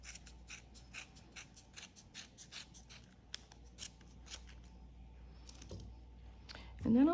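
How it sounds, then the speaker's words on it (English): Scissors snip repeatedly through knitted hat fabric between two layers, producing a steady series of close, crisp cuts that thin out toward the end, with quiet voice sounds in the background. "Now you take your scissors and right in between the two layers, you just start cutting away."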